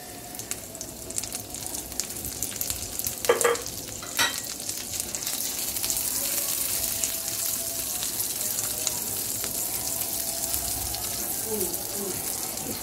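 Raisins frying in a pan for Nawabi lachha semai, a steady crackling sizzle with stirring scrapes, close and continuous, growing denser partway through.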